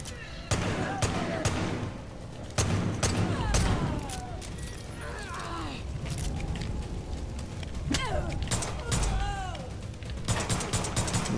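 Revolver gunfire in the video game Far Cry 5, played in arcade mode, rings out as several sharp shots among other combat explosions and crashes, fairly loud and dense with no talk over it.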